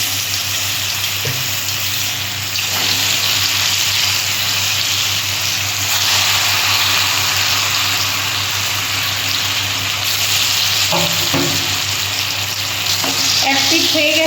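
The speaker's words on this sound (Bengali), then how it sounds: "আমি এবার ধোকাগুলো একটা একটা করে ভেজে নিচ্ছি।" Banana-flower dhoka pieces fry one by one in white oil, giving a loud, continuous bubbling sizzle close by with occasional light clinks and stirring scrapes.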